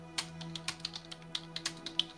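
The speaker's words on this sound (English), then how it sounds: "You're doing keyboard noises." Rapid clicking of a computer keyboard being typed on, an uneven patter of light taps over a steady low electrical hum, fairly quiet and with no voices.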